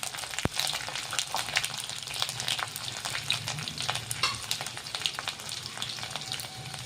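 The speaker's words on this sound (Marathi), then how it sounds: "हा लसूण कळ्या आहेत, यामध्ये टाकायच्या आहे" Garlic cloves, cumin, mustard seeds and curry leaves frying in a spoonful of hot oil make a quiet, steady crackling sizzle with a single sharp knock near the start.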